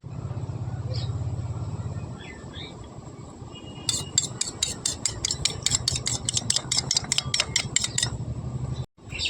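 Spoon stirring a mixture of onion juice, onion, garlic, Dettol and water in a bowl, with a rapid run of clinking strokes midway over a low fan hum.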